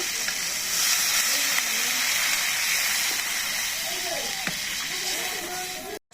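Water poured into a hot frying pan in a village kitchen sets off a loud, steady, close hissing sizzle that fills the clip, while a faint voice talks underneath.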